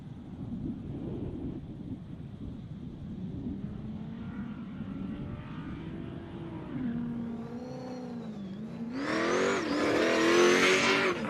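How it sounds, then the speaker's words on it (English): A big BT Commodore supercar-style race car at a hillclimb, its engine note rising and falling as it climbs, growing louder and harsher near the end as it passes close, with no talk. "Big BT Commodore supercar style thing."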